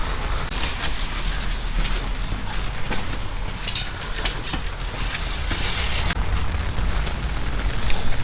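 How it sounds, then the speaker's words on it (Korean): Steady rain drums on the roof of a self-built detached house during zinc roofing work, a continuous broadband patter with scattered louder drops, birds faint in the background and no talk. "비가 비가 안그쳤 비가 안 그쳤어요"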